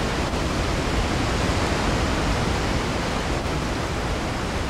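A waterfall below a dam in the Resident Evil Remix fan game roars as a dense, steady broadband rush of falling water, loud and unbroken with no talk over it.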